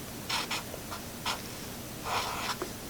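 Someone writes on a board in a quiet room, making several short, close scratchy strokes in uneven bursts with brief pauses between them.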